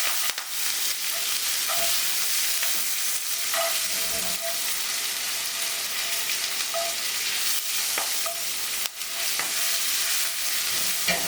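A filet mignon steak rubbed with an organic herb-spice blend sizzles loudly and steadily in a hot pan, with occasional clicks and scrapes as tongs turn and flip it.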